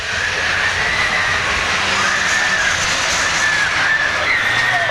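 A diesel pulling tractor roars through a tractor pull run, a loud, sustained, high-pitched engine scream with a steady whine, heard without speech.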